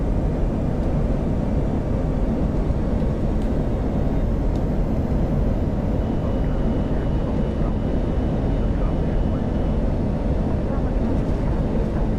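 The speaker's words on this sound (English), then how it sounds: "Look at the crosswind and how the aircraft is approaching the airport" A simulated Airbus A319 on approach in a crosswind at Vágar rumbles with a steady, dense roar of engine and wind noise throughout, broad and unbroken with no talking.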